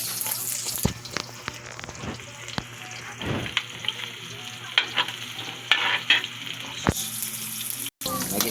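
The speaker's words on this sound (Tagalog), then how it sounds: "magigisa na ako ng bawang saka sibuyas para sa pansit" Garlic and onions sautéing in a pan for pancit, a soft steady sizzle broken by scattered clinks and scrapes of stirring, with brief splashes of tap water near the start and the end.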